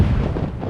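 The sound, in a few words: cannon salute fired for new navy patrol ship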